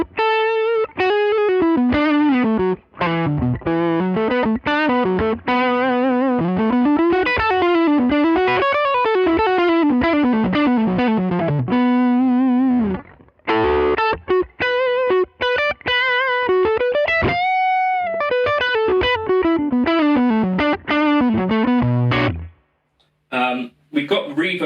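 A distorted electric guitar through the vintage channel of a Mesa Boogie Electra Dyne amp plays a flowing melodic phrase with bends and sustained notes, pausing briefly near the end.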